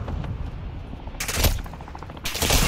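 Small-arms gunfire in Call of Duty Modern Warfare 2 co-op play, two loud bursts of shots cracking out over a low rumbling battlefield background, the second burst longer and closer.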